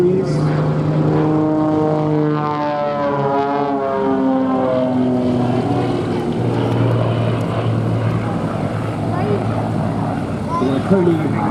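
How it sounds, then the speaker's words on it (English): An XA41 aerobatic plane with a 315-horsepower Lycoming AEIO 580 piston engine drones overhead at an air show, a loud sustained buzzing roar with shifting pitch as it manoeuvres, mixed with a commentator's voice throughout. "The Lycoming AEIO 580 piston engine of 315 horsepower gives the XA41 a maximum speed of 210 knots."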